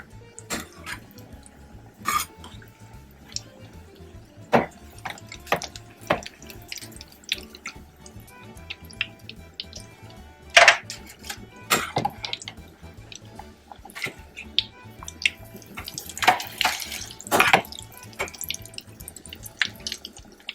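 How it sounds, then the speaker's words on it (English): Rice balls frying in hot oil, a steady crackle with scattered sharp pops and spits that grow busier toward the end, with no talk. "Okay, time to fry up the rice balls now."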